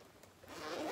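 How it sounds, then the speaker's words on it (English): One short, close zipper pull on a handbag, a quick rasping slide that grows louder toward the end. "so impressive, the zipper"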